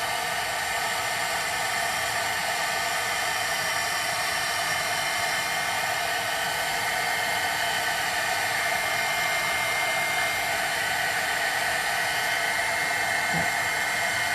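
A heat embossing tool blows steadily on paper for scrapbooking, a continuous broadband hiss and whir held at an even, close level throughout with no pauses.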